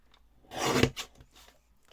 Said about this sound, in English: I'm now going to use my mini trimmer just to straighten all of that up.